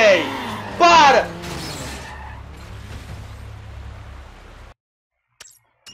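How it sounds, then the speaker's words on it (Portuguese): Tires squeal loudly as a car skids and crashes in Need for Speed Underground, followed by a long scraping, rumbling slide that fades out before brief faint clicks. "Foi batida, o carro ficou guinando 1 hora e depois ainda capotou"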